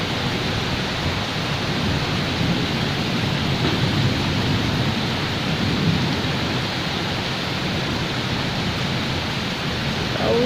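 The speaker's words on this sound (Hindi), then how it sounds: "यहाँ पे इतनी अच्छी बारिश हो रही है" Heavy rain falls steadily outside a balcony, a loud, dense and continuous hiss with no breaks and no voices.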